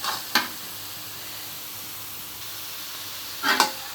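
Turmeric and salt frying in a wok with a steady soft sizzle, broken by two brief louder scraping stirs near the start and end.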